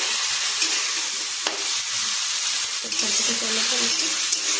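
Radish greens tossed into a hot pan give a steady, hissing sizzle, broken by a couple of sharp scrapes as they are stirred, close and continuous with no voices.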